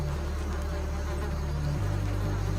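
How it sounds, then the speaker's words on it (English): A continuous droning buzz of carnivorous rainforest wasps hums steadily and loudly, rising slightly in pitch toward the end. "squadrons of carnivorous rainforest wasps"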